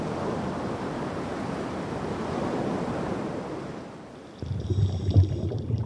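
Sea waves roll off Ulleungdo island in a continuous, loud surf rush with wind. Near the end the wash dips and gives way to a lower, rumbling surge.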